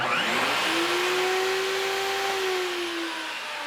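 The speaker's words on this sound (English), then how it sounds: "I want to see if it will power up the vacuum and the table saw at the same time." A vacuum cleaner and a table saw run together off a Pecron F3000 portable power station, making a loud, steady motor whine and roar that holds without a break and fades slightly at the end.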